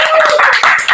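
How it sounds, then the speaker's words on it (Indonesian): A small group claps briefly in a podcast studio, a quick burst of hand claps over a steady tone, with no talk. "Tepuk tangan lagi sekali lagi"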